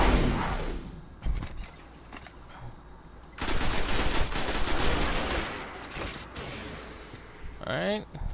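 Sniper rifle fire from the Destiny video game during a Legend difficulty strike, loud bursty gunfire crackling through busy game noise and effects, with talking over parts of it.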